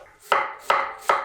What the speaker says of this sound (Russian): Капусту тонко нарезаю.